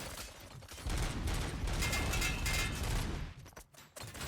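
A hacked turret in a video game fires a sustained, loud burst of rapid mechanical gunfire for about three seconds, then the shots break off into a few scattered clicks and pops.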